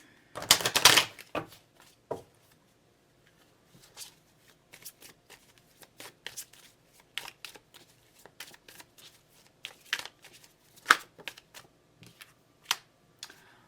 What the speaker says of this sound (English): Let me just give this deck a good shuffle.